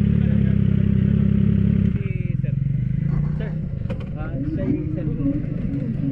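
An MV Agusta Rosso motorcycle with an inline three-cylinder engine idles with a steady, throbbing note for about two seconds, then settles lower and rougher while people talk nearby.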